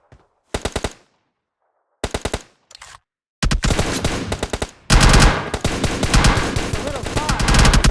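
Automatic gunfire in PUBG Mobile, short sharp bursts separated by silence at first, then sustained loud rapid firing with overlapping shots that builds toward the end.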